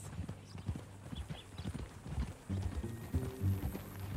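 Horse hooves clip-clop in Red Dead Redemption 2, a quick uneven trot up close, with low rumbling game ambience and faint tonal sounds beneath.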